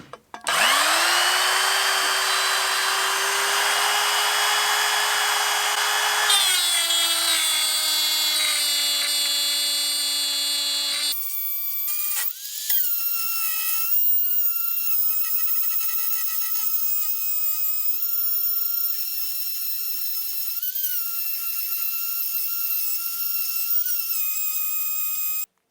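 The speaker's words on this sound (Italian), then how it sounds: "andiamo a effettuare una fresata perfettamente rotonda" A router milling a perfectly round cut into olive root for a resin table, a loud sustained high-pitched whine that steps down in pitch as the bit bites, running close and steady throughout.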